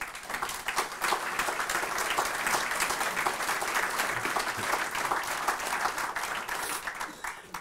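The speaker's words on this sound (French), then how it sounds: "vous pouvez l'applaudir" Steady applause from an audience at a conference fills the space, dense clapping holding at an even level for several seconds before tapering at the end.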